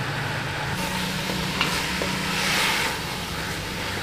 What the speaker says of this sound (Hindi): यहाँ पे जी अब तमाम मसाले को और गोश्त को भून लेंगे।